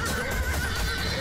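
Horses in the Animal Revolt Battle Simulator video game whinny and neigh loudly over a busy battle backdrop, with hoof clip-clop mixed in, continuous across the short span.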